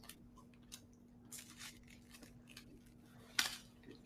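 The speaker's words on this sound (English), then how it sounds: "use my scissors. I'm going to cut it in a round form, just like that." Scissors snipping through thin wafer paper to cut a round shape, giving soft, faint crisp cuts spread through a quiet room, with one sharper snip near the end.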